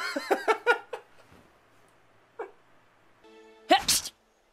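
A single short, sharp sneeze in a scene from the anime Kubo-san wa Mob wo Yurusanai, heard near the end after brief voiced sounds and a quiet gap.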